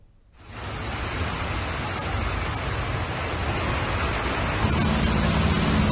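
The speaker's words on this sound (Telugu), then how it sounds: "హైదరాబాద్లో అకస్మాత్తుగా వర్షం కురుస్తున్నటువంటి పరిస్థితి ఉంది." Heavy rain pouring down in Hyderabad, a dense, loud, unbroken hiss that starts abruptly after a moment of quiet and holds steady, growing slightly stronger toward the end, with no voices.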